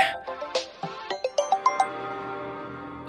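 A phone rings with a bright, melodic electronic tone, a quick run of chiming notes rising and falling, fairly clear and close, then fading into quiet room sound.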